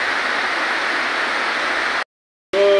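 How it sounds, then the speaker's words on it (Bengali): Heavy downpour of rain on a dark afternoon, a steady dense hiss close by for two seconds, cut by a brief silent gap before the wash resumes with a faint tonal sound. "চতুর্দিক কিন্তু অন্ধকার হয়ে মুষলধারে বৃষ্টি"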